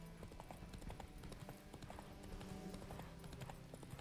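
Roach the horse gallops through The Witcher 3 game world, hooves clip-clopping in a steady rapid rhythm over an ongoing low game soundscape, with no talk over it.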